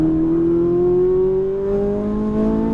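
A Ferrari 458 Italia V8 revs steadily under throttle on a race track, its engine note rising gradually and loud, close and continuous with no talk.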